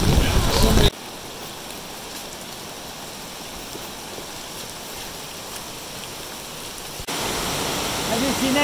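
Waterfalls roar in the rain as a steady broadband rush of falling water, with louder, closer noise at the start and end framing a quieter, even stretch in the middle.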